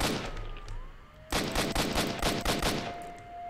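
A sudden burst of rapid gunfire erupts after a quieter stretch in the game Stalker: Shadow of Chernobyl, sharp close shots cracking in quick succession for about two seconds before fading to a lingering tone.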